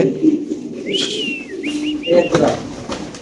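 Lahori pigeons coo at a pigeon farm, soft rolling calls repeating close by, mixed with other bird whistles and background voices.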